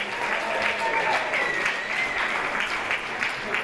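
Studio audience applauding the champions of the Goitless game show at Dimension Jump XVII, sustained clapping from a sizeable crowd, even and fairly loud, with a voice talking over it.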